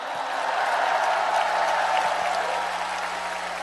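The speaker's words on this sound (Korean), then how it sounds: "박수 한번 부탁드립니다." An audience claps steadily at a party nomination acceptance speech in a large hall. The dense, even applause holds at a constant loudness throughout, with no talking over it.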